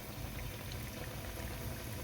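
Dough frying in vegetable oil, a dense, steady bubbling sizzle that stays continuous and fairly close, with no voices.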